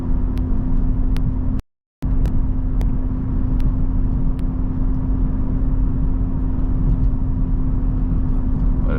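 A Honda Civic Type R FL5 hums along at steady cruising speed, its low engine drone and road rumble continuous from inside the cabin, with a brief dropout partway through.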